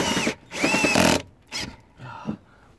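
A handheld drill bores into a van's body during a diesel heater fitting in a van conversion, running in two strong close bursts followed by a couple of shorter, fainter spurts.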